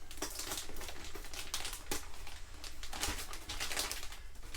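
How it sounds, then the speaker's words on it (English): Faint, close crinkling and snipping of a plastic mattress bag being cut open with scissors, irregular crackles and clicks over a low background hum. "don't freak out when you see me opening the bag with a pair of scissors"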